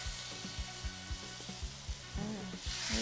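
Braised pork being stirred with sake sauce in a pan, with steady sizzling, scraping and a rhythmic clack from the utensil against the pan at close range, and no talk.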